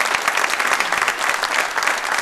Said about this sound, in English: A round of applause again for these wonderful students.